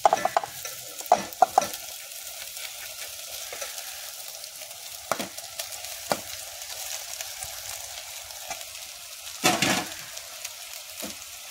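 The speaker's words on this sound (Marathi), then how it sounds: "भात टाकून मी परतून घेत आहे" Leftover rice is stir-fried in a pan for egg rice, with a faint steady sizzle broken by irregular scraping and clinking knocks of a spatula against the pan.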